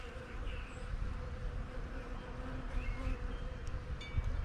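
Honeybee swarm buzzing under a house, a dense continuous droning hum that stays steady and close throughout, with individual bees flitting in and out of the drone.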